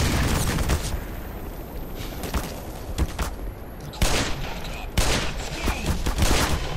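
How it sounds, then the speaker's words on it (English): In the Black Mesa video game, an Apache helicopter's gun fires in heavy, rapid bursts with booming impacts, loud and continuous, with a voice briefly heard under the gunfire. "I don't like it when the gun spins up like that."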